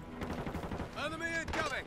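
Gunfire in Call of Duty Modern Warfare III during a Domination match, with rapid shots rattling close under radio-style voice callouts.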